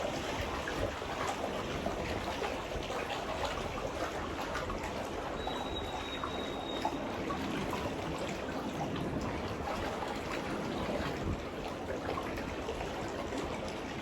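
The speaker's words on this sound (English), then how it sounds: "I'm getting a little sleepy just laying here listening to the waves" Gentle water washes and trickles steadily, a soft continuous lapping heard from fairly close with no talking.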